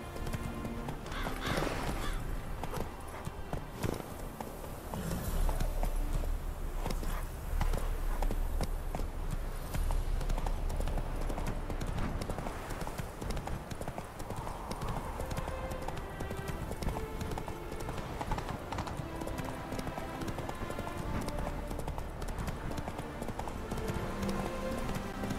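Roach the horse gallops hard in The Witcher 3: Wild Hunt, with dense rapid hoofbeats running loud and continuous for the whole stretch amid busy game sounds.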